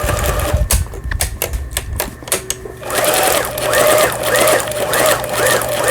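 Pfaff 6120 sewing machine stitching in reverse, a steady rapid mechanical whir and needle clatter running loud and close, preceded by a few sharp clicks and knocks as the machine is adjusted.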